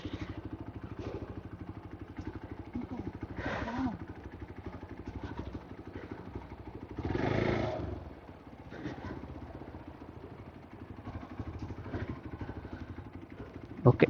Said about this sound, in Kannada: ಓಕೆ, ಈಗ ಆ ಗಾಡಿ ಪಾಸ್ ಆಯಿತು.